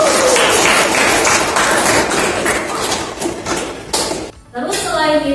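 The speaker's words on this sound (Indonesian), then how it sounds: "Ya, tepuk tangan." Students in a mathematics classroom clap together in a brisk, dense burst that stops abruptly, and a teacher starts speaking right after.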